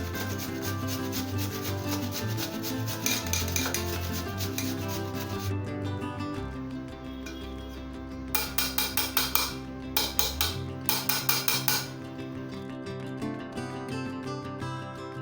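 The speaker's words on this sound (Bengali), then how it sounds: "স্ক্র্যাপারে আমি আলুটাকে ঘষে নিচ্ছি।" Peeled potato is rubbed against a grater, a close, continuous rasping scrape with a quick burst of rhythmic strokes near the end.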